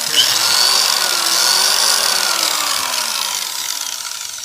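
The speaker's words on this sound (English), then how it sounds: "plug something like a drill or a light into the plug-in and test it to make" A power drill is plugged into the outlet of a solar panel power station's inverter. It whirs loudly and steadily up close, then its pitch sags and it winds down toward the end.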